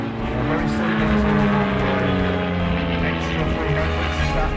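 An aerobatic aeroplane built by Dan Ryan in the United States, similar to an Extra 300, roars loudly and steadily overhead at an air show, its engine drone constant throughout.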